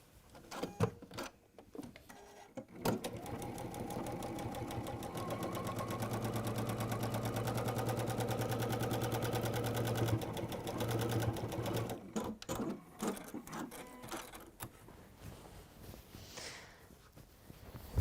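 A sewing machine runs in one long, steady stretch while stitching down fabric, its rapid needle clatter continuous for several seconds, framed by short bursts and clicks at the start and end.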